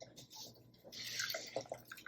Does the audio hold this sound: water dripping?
yes